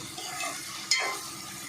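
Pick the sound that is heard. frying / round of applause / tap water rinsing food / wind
frying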